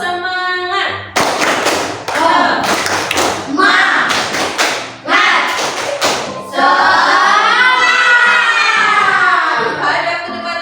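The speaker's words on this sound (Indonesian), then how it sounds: "Tepuk 1, tepuk 2, tepuk 3, tepuk semangat." Schoolchildren in a class clap a counted rhythm, sharp loud claps in short bursts of one, two and three, mixed with chanting voices and ending in a long excited group shout.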